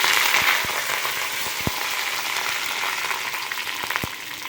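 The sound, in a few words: mustard seeds and curry leaves frying in oil for sambar tempering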